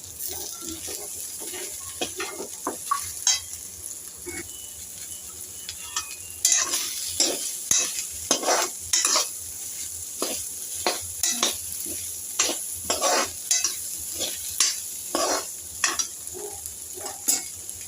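Chopped ivy gourd (tondli) sautéing in hot oil in a home kitchen for a dry Maharashtrian bhaji, with a soft steady sizzle under repeated scraping strokes of a stirring spoon against the pan.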